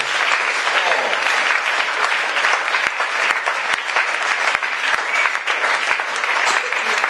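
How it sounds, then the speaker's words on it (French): A church congregation applauds God during a French-language service, with sustained, dense clapping that fills the room evenly throughout, a few sharper claps standing out near the front. "Acclame un peu Dieu s'il te plaît."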